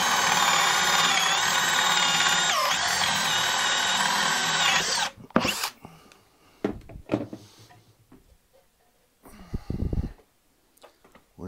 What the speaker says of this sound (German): Nehmen unseren Forstner Bohrer und gehen von der anderen Seite ran.